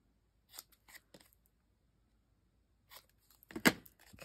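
Scissors snip paper while mitering the corners of a mini album, giving a few soft, close cuts at the start and a sharper, louder snip near the end, with quiet pauses between.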